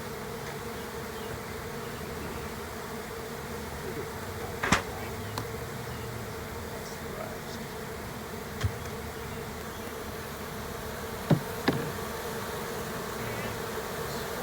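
Honeybees buzz steadily around a beehive during a summer hive inspection in hot weather, a continuous faint drone with a few brief sharp clicks or knocks.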